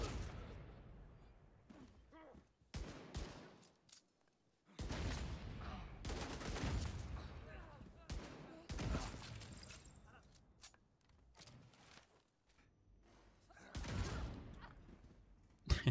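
Rapid bursts of gunfire from the Regulus exotic gun in The Division 2, arriving in several loud volleys separated by short pauses, with a louder crack near the end.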